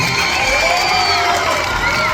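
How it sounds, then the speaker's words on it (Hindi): Loud crowd of schoolchildren at a school event, cheering and shouting together in a sustained roar, with clapping buried under the voices. "बच्चों का जोरदार ताली हो जाइए"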